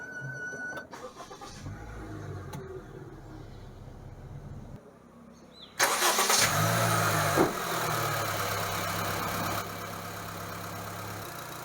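A 2025 Honda Amaze compact sedan with a petrol engine and CVT starts with a sudden loud surge of cranking and catching, then settles into a steady, smooth idle heard from close by.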